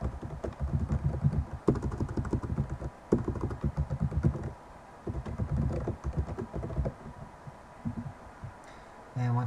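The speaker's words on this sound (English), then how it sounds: "Type in my email address." An email address is tapped out on a computer keyboard in quick, close clicks that come in bursts with short pauses between them. A faint hum runs underneath.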